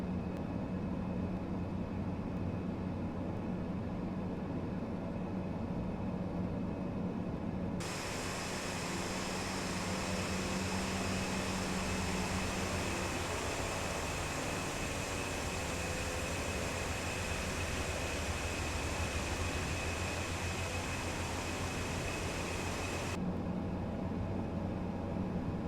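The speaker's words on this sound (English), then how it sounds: "taxiing over to our runway" An ATR 72 turboprop in a flight simulator game taxis to the runway at Fort Lauderdale, a steady loud propeller and engine drone with a broad hiss that swells and holds for about fifteen seconds before easing back, no voices.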